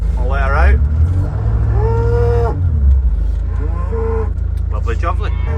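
A cow on a farm lets out several loud, close moos, one short call followed by longer drawn-out lows, with engine-like rumble underneath and people talking at points.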